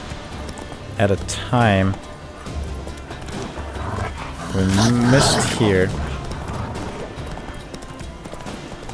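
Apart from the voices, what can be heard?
horse galloping in the video game The Witcher 3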